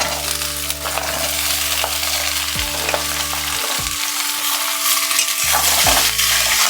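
Taruli pieces sizzling in a pan of hot oil with onion, a steady crackling fry with occasional stirring scrapes and light clinks of the utensil, close and continuous.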